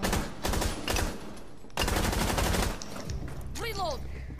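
Gunfire rips through a wall in the Rainbow Six Siege video game, rapid bursts of automatic shots close and loud, followed by game effects as a voice speaks briefly.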